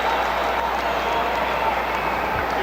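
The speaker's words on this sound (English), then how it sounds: "Oh, listen to that crowd. They're finally alive." Rugby stadium crowd at a provincial Otago versus Bay of Plenty match, a steady, loud, broadband roar of cheering and applause filling the whole stretch without pause.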